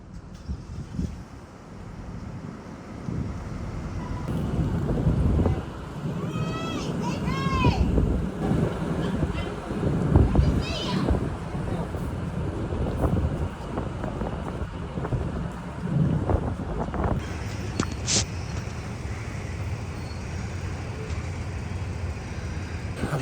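Wind buffets a ferry crossing from Grand Isle, Vermont, with rumbling gusts and low engine and water noise over the whole stretch, plus a few brief high squeaks and clanks.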